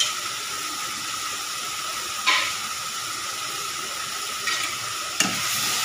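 Spices fry in oil in a pan for a Punjabi-style bori, potato and eggplant curry, giving a steady close hiss with a few short stirring scrapes.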